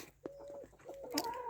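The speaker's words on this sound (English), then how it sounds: "Cockerel was trying to wake them up though" Rooster and hens clucking as they run out of a chicken coop at first light, with short bursts of clucks and a brief crow-like call at a moderate distance.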